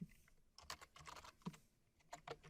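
Quiet, close keystrokes on a computer keyboard, typed in short irregular bursts of soft clicks with no voices.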